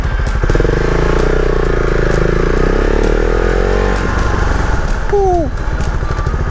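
A loud Husqvarna Vitpilen 701 motorcycle engine drones close by while riding, its pitch climbing steadily as it accelerates, then dropping briefly before surging again.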